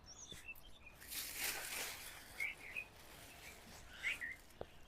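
Morning birds chirp and sing outdoors in scattered short bursts, faint against a quiet background with a soft wash of ambient noise.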